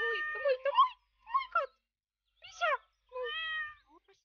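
A cat in Minecraft gives several short meows in separate bursts with silent gaps between them, ending on a longer tonal meow, heard clearly with no background noise.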